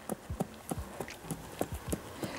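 A horse's hooves clip-clop in a steady, regular rhythm, about eight clear hoofbeats over a constant outdoor background, with no talk.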